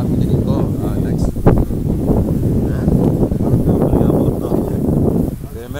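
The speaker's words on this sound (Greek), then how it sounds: "Περιμένουμε μπας και πέσει ο αέρας." Strong wind buffeting the microphone in a constant low rumble, with faint rustling and occasional knocks throughout, during overnight fishing on the coast of Chalkidiki, Greece.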